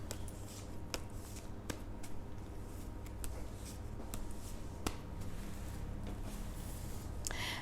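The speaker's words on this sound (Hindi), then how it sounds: "तो पाइसेस के लिए मैं कार्ड्स शफल कर रही हूँ।" Tarot cards are shuffled by hand, a soft continuous riffle with sharp flicks and snaps scattered through, close-up over a steady low background hum.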